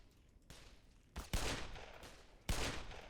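Gunfire in the video game Black Mesa, a few loud, sharp shots in quick bursts with short ringing decays, near and without talk.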